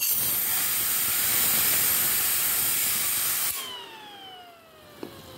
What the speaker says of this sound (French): si je prends une bombe d'air